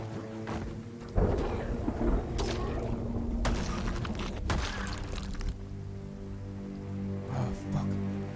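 Steady rain pours across a stormy scene in an I Am Legend style outbreak survival game, broken by several loud, sharp thunder cracks and rumbles.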